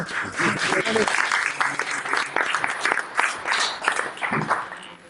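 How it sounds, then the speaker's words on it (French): An audience applauds at an association's annual general meeting, steady sustained clapping from a room full of people throughout, fairly loud and close. "On applaudit Bruno"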